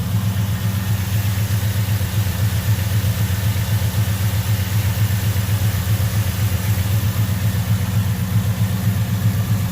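A Chevy 350 V8 fitted with an overdrive alternator pulley idles steadily, a loud, even, low rumble running on alone throughout.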